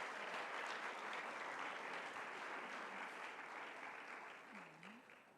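Steady applause from an audience at a pharmacy students' world congress opening ceremony in Kigali, a dense wash of clapping that carries on throughout and slowly fades toward the end, fairly distant and quiet.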